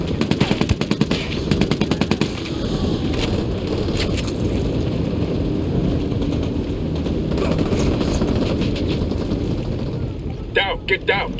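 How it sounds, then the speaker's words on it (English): Apache attack helicopter in Ghost Recon Wildlands, a steady loud rotor and engine roar throughout, with bursts of rapid gunfire crackling at the start and some game voices underneath. "Fucking Apache's about to fire."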